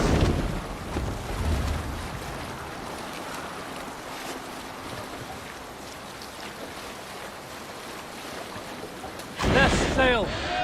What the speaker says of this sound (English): Let the sail out.